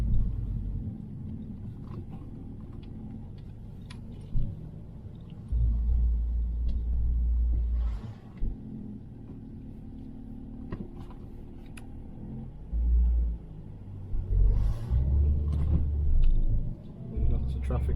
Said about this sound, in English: Lots of traffic on the way back in the afternoon.